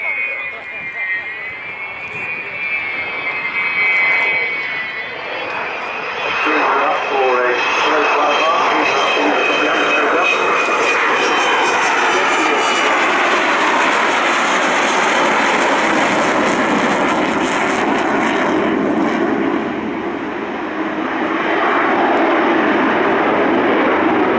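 Avro Vulcan XH558 jet bomber roaring through an air display at RIAT 2013, a loud sustained engine rumble with a rising, sweeping whine that swells as the aircraft passes, continuous for the whole stretch.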